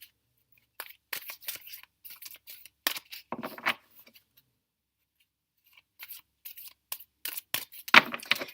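Bursts of riffling and flapping card noise come in several quick clusters with pauses between, close and fairly crisp, with no talking.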